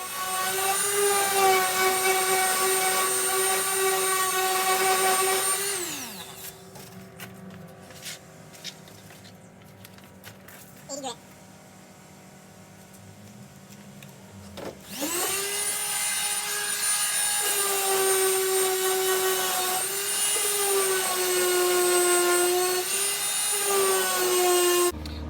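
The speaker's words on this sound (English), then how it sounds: "Let's sand it up." A power sander works on a wooden birdhouse part with a loud, steady motor whine that stops for several seconds, leaving quieter shuffling and clicks, then starts up again and runs to the end.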